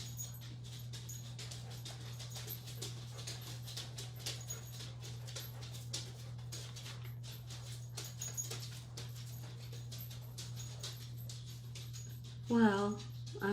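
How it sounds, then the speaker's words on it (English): Dogs faintly panting and whimpering indoors around dinner time, soft and intermittent beneath a steady low hum, with a sharper whine near the end. "Do you hear those doggies coming down?"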